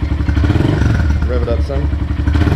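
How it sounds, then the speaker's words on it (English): A Honda CRF125F motorcycle engine revs loudly up close, a steady throbbing rumble that rises in pitch mid-way, with voices faintly underneath. "Go ahead and rev it a little bit, Liam."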